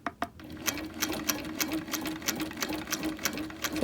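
A sewing machine quilting a wholecloth quilt runs in a steady, fast mechanical rhythm of needle strokes, close and clear, starting after a couple of brief clicks.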